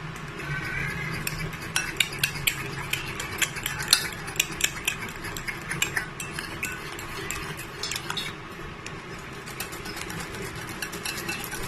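Utensil stirs and clinks against a bowl while pancake batter of oats and ripe banana is mixed with baking powder, steady scraping with scattered light taps over a low background hum, no talking.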